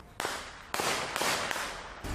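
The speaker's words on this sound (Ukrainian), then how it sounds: "Це відео пострілів зафіксували свідки." Three or four sharp, loud gunshots go off about half a second apart in a street shooting in Mykolaiv, each a sudden burst followed by a short echoing decay, with no talking.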